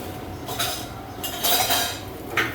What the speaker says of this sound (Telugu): అన్నీ వేసుకొని చక్కగా మిక్స్ చేసుకోవాలి.